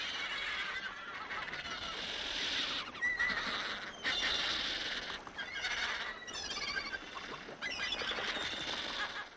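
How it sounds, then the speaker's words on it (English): Thousands of wild migrant birds nesting on the sea cliffs of Seal Island make a dense, steady mass of honking and squawking calls, fairly faint and far off, with no talk. "Wild birds by the thousands."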